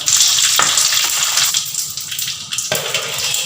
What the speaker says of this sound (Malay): Kita goreng tahu kering ni sampai dia tukar warna.